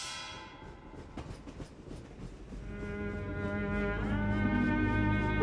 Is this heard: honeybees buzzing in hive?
no